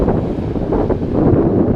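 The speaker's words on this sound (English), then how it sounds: "It's pretty windy." Strong wind buffeting the microphone at the seashore at Langley Point, Eastbourne, at night, a loud continuous low roar with gusty swells and no voices.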